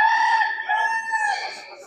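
A rooster crows at a poultry show, one loud sustained harmonic call close by that stretches across the whole moment with no talk over it.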